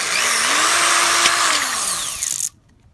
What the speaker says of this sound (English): What you gotta do is drill a hole so you can run this through the back of the cap.